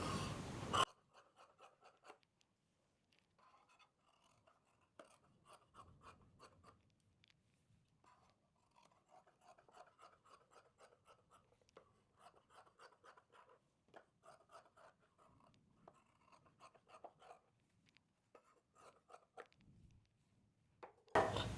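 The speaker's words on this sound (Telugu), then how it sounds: "ఇప్పుడు ఇది కటింగ్ చేసేద్దాం." Scissors cutting blouse lining cloth for a beginner's lined blouse, heard as near, soft repeated snipping and fabric rasps in bursts with brief pauses, no talking.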